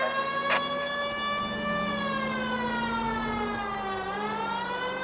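A loud, steady wailing police car siren in the video game LA Noire, with many harmonics, sliding slowly in pitch, continuous and close.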